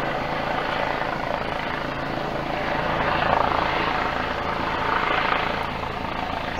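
A life flight medical helicopter passes overhead, its rotor and engine noise a loud continuous whir that swells slightly in the middle and again near the end, with no talk over it.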